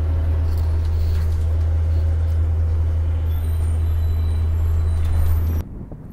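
A city bus on route 331 idles with a loud, steady low engine drone close by, with traffic noise around it, before the sound cuts off sharply near the end.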